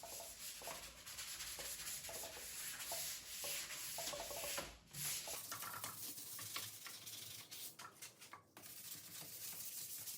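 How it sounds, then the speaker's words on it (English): Light hand sanding of a wooden bureau before painting, a steady rasping scrub of abrasive strokes close up, continuous and moderately quiet with brief pauses. "Time for one more light sand on everything before we do the paint."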